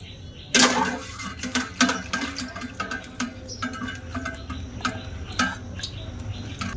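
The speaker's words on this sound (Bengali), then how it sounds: "ভালো করে পরিষ্কার করে জল দিয়ে ধুয়ে নেব।" Large tapioca pearls are swished and rinsed by hand in water inside a bowl, giving close, irregular splashing and sloshing with light clicking taps against the bowl. No voices are heard.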